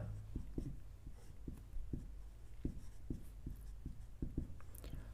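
Pen or chalk scratching on a board or paper during a class 10 maths lesson on ratio and proportion, quiet strokes in an uneven rhythm of short scrapes and taps over a low background hum.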